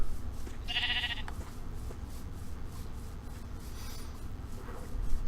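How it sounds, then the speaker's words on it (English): A sheep bleats once, short and moderately close, in the Minecraft FTB Beyond modpack, set against a steady low game ambience with no talking. "Looks like we got a bunch of sheep."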